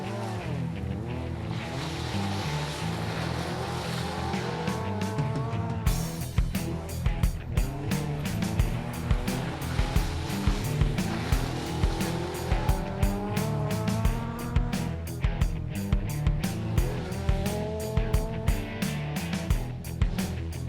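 A rally car is driven hard around a test course marked out with tyres, its engine revving and dropping in quick repeated surges with squealing tyres and sharp gear shifts, loud and close throughout.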